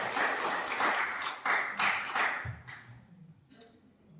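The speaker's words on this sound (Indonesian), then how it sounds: "Kita berikan tepuk tangan." Audience applause at a college program's opening ceremony, a short burst of dense clapping that fades out within a few seconds, with a couple of stray claps at the end.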